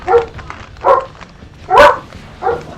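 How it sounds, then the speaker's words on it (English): Four loud, sharp barks from a dog or dogs, spaced evenly and close by, with a quiet room behind them. "you're barking at nothing."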